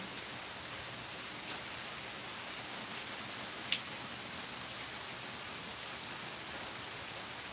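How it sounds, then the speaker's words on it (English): Rainfall keeps up a constant soft hiss, broken by a couple of distinct drip hits, with no talking. "A lot of people like to listen to it rain."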